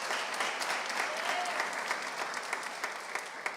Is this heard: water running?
no